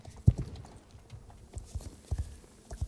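Hooves of a horse in Star Stable Online clop in an uneven galloping rhythm, sharp close thuds spaced across a quiet background with no talk.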